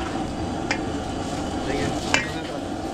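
Bihon rice noodles go into a boiling broth pot and are stirred, giving a steady bubbling simmer with a couple of sharp utensil clinks against the pot.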